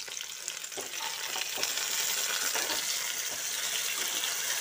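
Taro and fish fry in hot oil in a home kitchen, a steady close, soft sizzle and crackle with occasional stirring, no voices.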